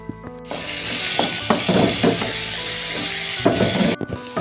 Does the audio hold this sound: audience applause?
no